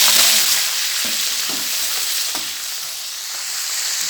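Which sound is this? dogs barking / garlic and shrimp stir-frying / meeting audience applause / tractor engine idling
garlic and shrimp stir-frying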